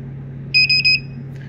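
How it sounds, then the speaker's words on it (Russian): A medical control unit of the MC15/MC16/MC17/MC18 type gives a quick triple beep as it starts charging its BP1 battery; three sharp, high electronic tones ring out close and loud over a low steady hum. "Прозвучал тройной сигнал, это значит, что блок начал заряжаться."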